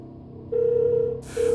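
A phone ringing in a Hindi horror story, a short electronic ring tone that sounds twice in quick succession over a low background drone, clear and close.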